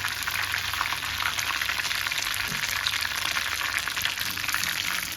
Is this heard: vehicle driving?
no